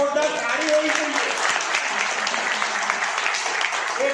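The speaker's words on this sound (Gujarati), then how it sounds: "એટલે એમના માટે જોરદાર તાળી હોવી જોઈએ." An audience at a Gujarati product presentation applauds in a steady, moderately loud patter of clapping that fills the whole stretch, with some voices mixed in.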